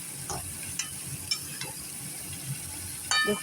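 Cabbage and sugar are stirred in a hot pan over a soft sizzle, with a few short scrapes and clinks of the spoon at uneven intervals, close and fairly quiet.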